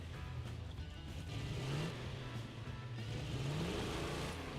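A video game car engine in Lego 2K hums and revs in rising and falling pitch sweeps, steady and moderately loud, with no talking.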